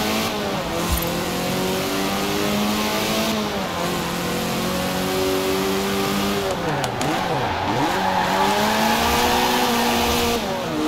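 Car drifting in the Forza Horizon 4 racing game, its engine revving loudly and continuously with pitch sweeping up and down through slides and corners, a sharp dip and rise midway, and faint tire squeal underneath.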